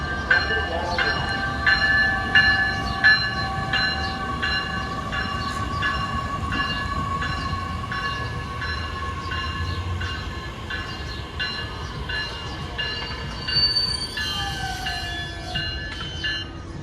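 A Metra electric commuter train pulls into a Chicago station on the South Chicago line, a steady rolling rumble with rhythmic rail clatter, a long horn-like tone and a high squeal of brakes near the end.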